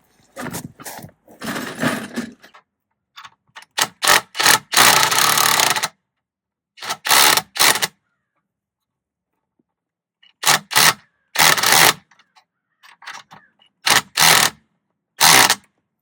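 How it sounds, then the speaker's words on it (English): A wrench tightens the bottom bolt on the bracket of a leaning privacy fence, heard as bursts of rapid ratcheting clicks, some short and some sustained for a second or two, separated by pauses. "I'm going to take my wrench and I'm going to put it around that bottom"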